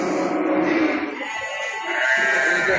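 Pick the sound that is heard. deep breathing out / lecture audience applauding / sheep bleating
sheep bleating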